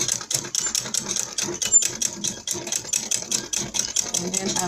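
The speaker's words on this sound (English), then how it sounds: "we're here on the sewing machine, so I'm going to be running this with 1/4 inch" A sewing machine stitches satin fabric with a fast, even mechanical chatter close by. Its rhythm runs steadily throughout.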